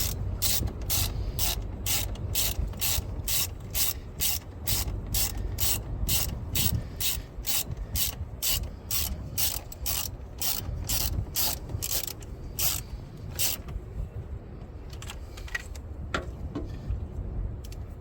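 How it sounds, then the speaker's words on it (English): A hand ratchet tightens a 1/2 inch bolt during a GPS and camera install on a Ford Maverick, giving a long run of sharp, evenly spaced clicks that thin out toward the end, close and loud. "with your 1/2 inch, go ahead and tighten it back up."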